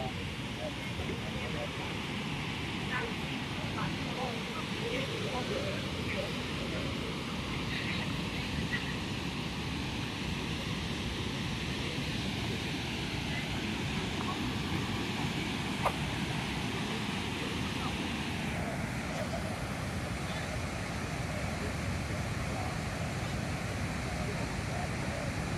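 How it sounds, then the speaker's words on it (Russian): Ban Gioc waterfall in Vietnam, heard while approaching it on foot: a continuous broadband roar of rushing water that stays even throughout, with faint voices under it. "Ну и вот можно на подходе к водопаду."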